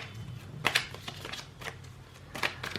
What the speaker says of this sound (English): I just want to shuffle some more cards to find out what the future of your connection is